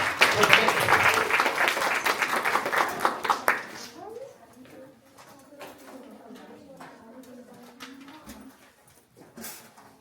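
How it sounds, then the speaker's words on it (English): Crowd applause at a school Revolution presentation, a loud burst of many hands clapping for about four seconds that then stops abruptly, followed by quieter room noise and soft talking. "George Washington, let's give them both a round of applause"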